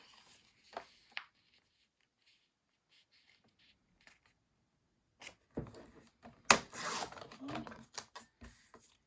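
Paper scraps being cut into pieces for the flaps of a handmade birthday mini album, a few faint snips early on and then a louder stretch of cutting and rustling paper handling near the end.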